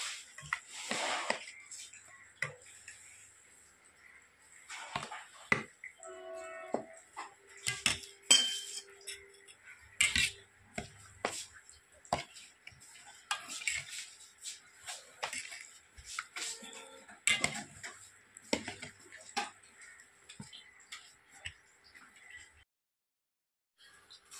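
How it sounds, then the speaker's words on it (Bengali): A spoon scrapes and clinks against a bowl while prawn filling is mixed with sugar, giving a steady stream of soft, close taps and scrapes with occasional louder knocks. "এবার এটাকে ভালো করে মিশিয়ে নিচ্ছি"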